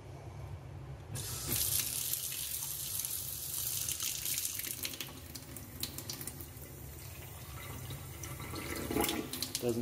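Apartment sink tap switched on, water gushing steadily into the basin and splashing loudly for several seconds, with the flow briefly changing pitch toward the end as a container beneath it fills.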